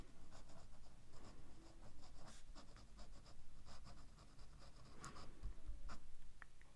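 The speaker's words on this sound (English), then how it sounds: "It's pretty decently stiff nib, but certainly writes very well." A Montblanc 146 fountain pen with a stiff nib writes on paper, a faint, close, scratchy scribbling of nib strokes, with a few small taps.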